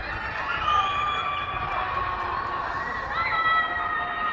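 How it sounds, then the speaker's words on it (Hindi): Residents shouting from apartment balconies during a COVID lockdown in China, a dense wash of distant crowd voices and high wailing calls echoing between buildings, sustained throughout. "लोग लॉकडाउन में परेशान होकर अपनी बालकनी में आके चिल्लाने लगते हैं"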